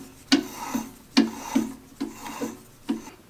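A fiberglass block for a thru-hull fairing is tapped by hand with a power tool about seven times, in a loose rhythm of sharp, close knocks.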